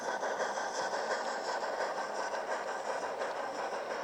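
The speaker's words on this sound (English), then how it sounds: "We have a Black 5 pulling some Pullman coaches." A model Black 5 locomotive hauls Pullman coaches around a model railway layout at a club show, giving a soft, steady rolling hum and rattle of small wheels on track, faint and continuous throughout.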